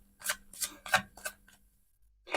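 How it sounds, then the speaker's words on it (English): Tarot cards being shuffled by hand, four quick riffling bursts in a steady rhythm, close and fairly quiet, followed by a pause and another burst starting at the end. "So I'm shuffling the cards"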